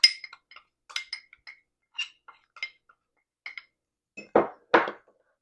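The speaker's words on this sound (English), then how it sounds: "we'll just keep on stirring it until all the cornstarch will be totally dissolved through the help of the pineapple juice" Spoon stirring cornstarch into pineapple juice for pork tocino, giving a series of light, close clinks against the container at irregular intervals, ending in two louder scraping swirls.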